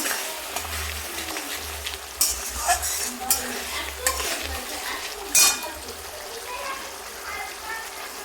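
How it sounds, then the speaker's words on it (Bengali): Masala spices being fried and stirred in a pan for a Bengali rui fish curry, a soft sizzle under scraping spoon strokes and occasional clinks of utensil against the pan, close and fairly quiet, with a voice speaking over it. "তারপরে মশলাটা আমি ভালো করে কষিয়ে নেব।"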